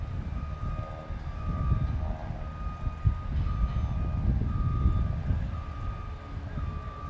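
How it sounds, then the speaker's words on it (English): Vehicles on a metalwork construction site sound repeated reversing beeps, a faint regular high-pitched pulsing set back at a distance over a heavy rumbling churn of engines and machinery. "Lots of beeping going on. I guess if you're on a construction site, you just hear that all day."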